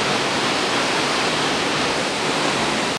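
Waterfall near the Atri Muni ashram, heard as a loud, steady broadband rush of falling water that carries on unbroken and close, with no talking.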